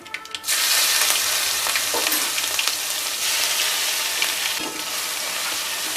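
Mustard seeds, cumin and asafoetida splutter in hot oil for potato poha, a loud continuous crackling fizz with sharp popping bursts, close and without voices.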